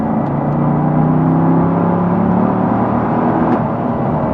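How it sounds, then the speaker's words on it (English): A car with an aftermarket exhaust drones at steady revs, a loud, close, continuous engine hum with a deep low rumble and little change in pitch. "this car has an unidentified aftermarket exhaust. I'm not sure what model it is, but it sounds pretty damn good"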